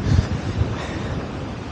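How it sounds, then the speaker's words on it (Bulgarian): Strong wind buffets the microphone outdoors at a very old stone structure later used by monks as a monastery, a steady, loud roaring rush with low gusty thumps and no voices. "Вятърът е доста силен."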